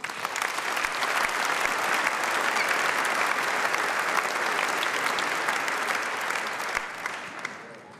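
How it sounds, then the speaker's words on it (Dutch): Audience applause at the Sportgala Fryslân 2014 sports awards for provincial commissioner John Jorritsma, a broad, sustained round of clapping from a large hall that holds steady before tapering off at the end. "Mag een applaus voor John Jorritsma."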